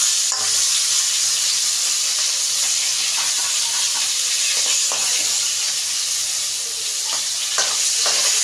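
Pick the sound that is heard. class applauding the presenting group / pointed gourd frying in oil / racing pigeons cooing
pointed gourd frying in oil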